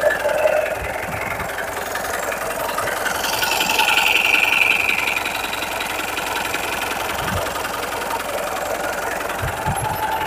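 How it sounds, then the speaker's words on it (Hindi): An old 2001 Mahindra pickup engine idles steadily nearby with a rough, knocking diesel-like chug, briefly rising in revs midway before settling back to a constant idle. "ये इंजन का साउंड है।"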